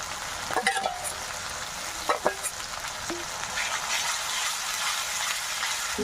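Ginger garlic paste frying in oil for a spicy parshe fish curry, a steady soft sizzle broken by a few sharp clattering stirs near the start and middle, with no talking.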